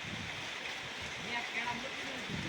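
Rainwater rushes across a flooded road into a drain beside a farm field after heavy rain, a steady broadband wash of flowing water throughout, with someone talking faintly underneath.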